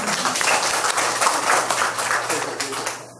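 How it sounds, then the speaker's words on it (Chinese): Students in a calligraphy class give a brief round of applause, a moderate patter of many hands that tapers off at the end. "来一个掌声嘛！"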